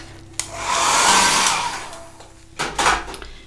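A hair dryer blows on wet watercolor paint on a butterfly painting, whirring loudly for about two seconds, switching off, then giving a short second burst, with no talking.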